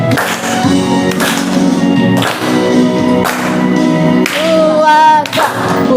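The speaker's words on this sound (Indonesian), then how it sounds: "Kalian boleh berdiri sebelum ya, boleh sambil tepuk-tepuk" Schoolchildren in a classroom clap along in time to a loudly playing song, their regular claps landing roughly once a second beneath the music and singing.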